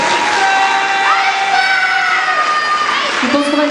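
An evening audience at a local Miss pageant in Péruwelz cheers, whoops and applauds loudly throughout, with crowd shouts and voices layered over steady clapping.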